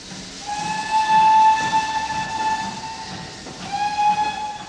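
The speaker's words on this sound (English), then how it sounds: "The train comes out of Bristol on a peculiar S-bend" A Great Western steam train's whistle sounds in two long, clear blasts over the steady rumble of the moving train leaving Bristol on an S-bend, with no voices.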